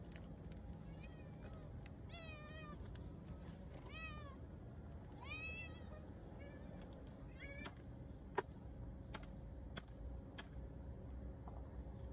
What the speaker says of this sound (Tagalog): So ayan, nag-aabang-abang na, nag-iiyakan. So guys, magpapakain muna po tayo ng ating pusa.